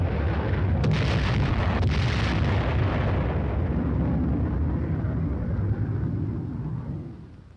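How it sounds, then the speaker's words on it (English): General purpose bombs dropped from aircraft explode in a heavy, continuous roar of blasts and rumble with sharp cracks early on, loud and sustained before fading slightly at the end. "Once they are spotted, the first flight drops general purpose bombs."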